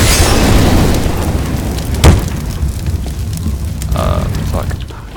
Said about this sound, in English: throw a Molotov like that